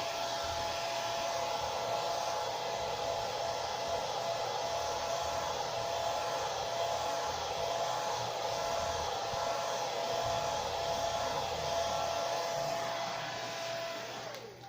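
A hair dryer runs close and steady without pause, drying freshly applied chalk paint with a constant, loud whooshing whine throughout.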